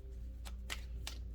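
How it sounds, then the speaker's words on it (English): A deck of tarot cards being shuffled by hand, with three quick riffling bursts, close and soft, and no talk. "These cards are kind of hard to shuffle"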